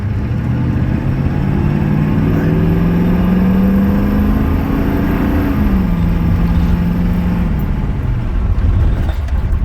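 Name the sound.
diesel pickup truck accelerating hard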